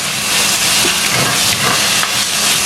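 Tomatoes sauté in a hot pan as the base for a Tamil shark fish curry (sura meen kulambu). A loud, close, steady hissing sizzle runs through the whole clip, with slight flickers of crackle. No one speaks.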